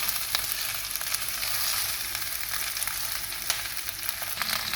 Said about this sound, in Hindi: मैंने इसको ज़रा दोनों तरफ से इसको फ्राई कर लिया है।